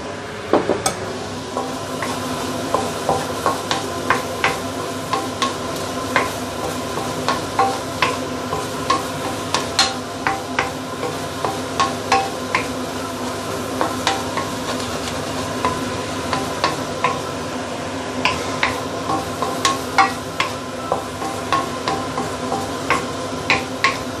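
Eggs and prawns fry in a pan with dark soy sauce, a steady sizzle under repeated scraping and tapping of a utensil stirring against the pan, with no speech.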